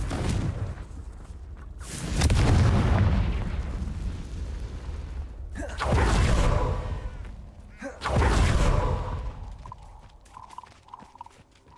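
Confringo fire spells from Hogwarts Legacy burst in three heavy, rumbling blasts spaced a few seconds apart, each swelling and fading into a low roar, with faint game effects between them.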